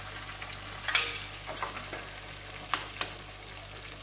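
Egg frying in hot oil among potato, cauliflower and peas in a pan, a steady soft sizzle with a few light scrapes and taps of stirring, close and fairly quiet.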